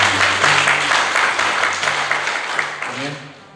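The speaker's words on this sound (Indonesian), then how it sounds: "Yang mengerti berikan tepuk tangan buat dia." A church congregation bursts into loud, dense applause that fades gradually, with a voice speaking over it.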